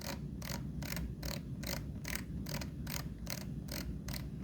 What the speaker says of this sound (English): we'll adjust the weight down to ½ kilo using our rotary knob